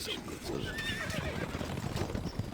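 Horses in the Stronghold video game whinny loudly and shrilly over a busy, dense backdrop of game noise and clopping hooves.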